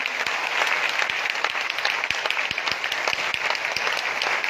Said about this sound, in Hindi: हम बहुत जोरदार तालियों के साथ आपको वेलकम कहना चाहते हैं